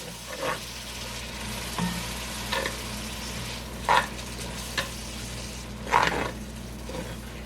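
Onion and garlic sizzle softly in melting butter for a broccoli cheddar soup, a low steady frying hiss broken by a few brief stirring scrapes and clinks, moderately close and with no talking.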